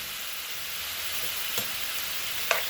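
Chicken frying in a pan for pan-fried noodles gives a steady, close sizzle with crackling hiss throughout and a couple of faint clinks, no talking.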